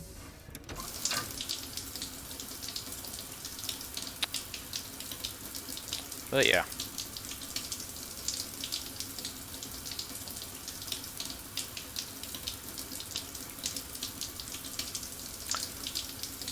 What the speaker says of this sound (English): Just gonna take my shower now, because I'm probably dirty.